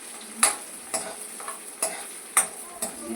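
Garlic, green chilies, curry leaves and onion fry in a pan with a soft background sizzle, punctuated by about five sharp spatula taps and scrapes against the pan at a steady pace, close by.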